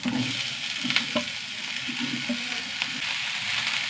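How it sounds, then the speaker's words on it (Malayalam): Long-sliced brinjal sizzles steadily in a hot pan with turmeric and chilli powder, a continuous bright hiss broken by a few soft stirring clacks, close and moderately loud with no talking. "ഇനി നമ്മുടെ നീളത്തിലരിഞ്ഞ വഴുതനങ്ങ ഇട്ട് കൊടുക്കാം"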